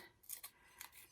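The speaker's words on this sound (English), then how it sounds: "Another thing we could do is we could just take the back of our scissors and do it too." The back of a scissors blade scrapes across crepe paper to break it down, two quick rough scraping strokes, close and soft.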